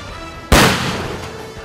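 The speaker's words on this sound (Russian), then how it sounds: "Спасатели продемонстрировали опасность петард на куриной тушке." A firecracker bursts on a chicken carcass in a rescue-service safety demonstration: one sharp, loud bang after half a second of quiet, followed by a decaying rumble and debris noise.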